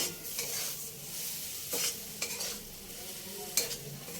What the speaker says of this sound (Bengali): জল দেবো, অল্প অল্প করে জল দেবো আর নাড়তে থাকবো।